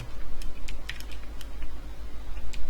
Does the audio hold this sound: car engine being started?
no